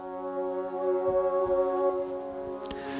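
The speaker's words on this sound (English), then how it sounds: "the drone notes sound like this" Layered synthesizer drone notes from a synthwave track hold a steady, quiet chord with rich overtones, and a few soft clicks sit underneath.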